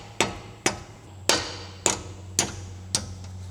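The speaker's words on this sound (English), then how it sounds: "A couple taps up with the rubber hammer." A rubber hammer delivers six sharp, evenly spaced taps on a king pin of an Iveco Eurocargo truck, each a close, dull knock that fades quickly under a low background hum.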